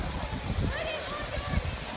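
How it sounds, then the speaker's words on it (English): Broad, steady rushing water from three large waterfalls at Animal Kingdom in Florida, a constant roar heard from a distance, with a person talking over it. "And here's one of the bigger waterfalls. Actually, that's 3 waterfalls."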